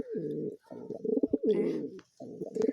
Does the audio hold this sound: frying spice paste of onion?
no